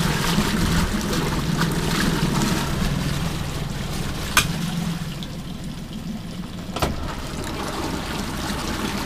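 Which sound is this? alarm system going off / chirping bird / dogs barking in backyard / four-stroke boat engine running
four-stroke boat engine running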